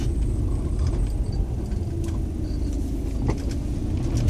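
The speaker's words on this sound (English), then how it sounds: "Oh, there's another car." A car passes on a road in Japan, a steady low rumble of engine and tyres that holds throughout at moderate distance, with no talk.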